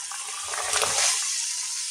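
Water is poured into a cooking pan for an egg and potato curry, a brief, steady splashing gush that swells and fades within a couple of seconds, with no talking.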